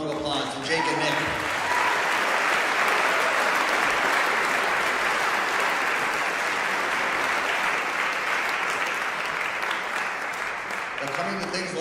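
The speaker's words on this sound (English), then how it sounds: "Let's give another round of applause to Jake and Nick." Loud, sustained applause from a concert audience for performers Jake and Nick at the Duluth Armory, dense clapping filling nearly the whole stretch before tapering at the end.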